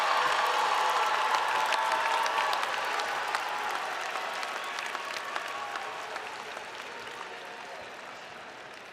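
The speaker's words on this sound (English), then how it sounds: "And one final round of applause for the graduates of the Humanities and Sciences Division." An audience at a college commencement ceremony gives the graduates a final round of applause: steady, dense clapping from a large crowd with faint cheers, gradually tapering off.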